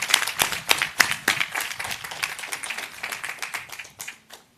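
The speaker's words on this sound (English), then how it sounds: "Give them a round of applause." Crowd at the Caldwell University undergraduate commencement ceremony clapping for the faculty, a round of applause with sharp individual claps that thins out and fades at the end.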